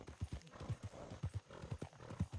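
Horse hooves clip-clopping past in RedM roleplay, a Western-themed video game: a quick, close series of hoofbeats with a rapid, uneven gait across the whole brief moment.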